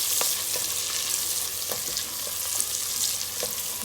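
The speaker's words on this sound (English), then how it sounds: "The onions have fried enough" Onions fry in a pan with a dense, loud sizzle, and intermittent scraping taps of a spoon stirring them sound up close, with no voices.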